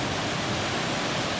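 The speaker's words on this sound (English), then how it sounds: "this is just a little cascade along Moriah Brook." A small water cascade on a mountain brook in the woods rushes steadily and close by, a dense even roar with no other sounds over it.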